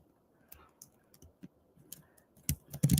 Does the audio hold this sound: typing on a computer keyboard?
yes